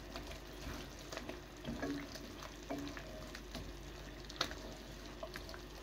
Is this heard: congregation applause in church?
no